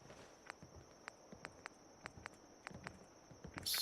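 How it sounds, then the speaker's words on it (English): Settlers walking in Fallout 4, a series of quiet, evenly spaced footsteps tapping on a hard floor, faint and somewhat distant, with nobody speaking. "Am I hearing footsteps?"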